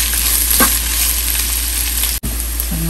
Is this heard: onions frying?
yes